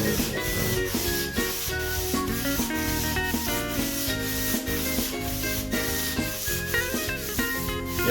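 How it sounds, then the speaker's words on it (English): Hand sanding of a wooden guitar neck with fine 600 grit sandpaper makes soft, rhythmic rubbing strokes, partly buried under loud background music. "Very fine sandpaper."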